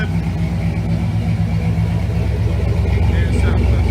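A truck with a carbureted 5.0 V8 swap runs at a steady idle at a gas station, a loud, even low rumble throughout, with a voice talking over it.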